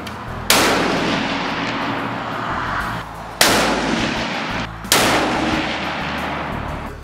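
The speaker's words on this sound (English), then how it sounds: "we're going to take 3 shots to group again" Three loud big game rifle shots fired at a 100-yard range, each a sharp crack with a long rolling echo, spaced a few seconds apart.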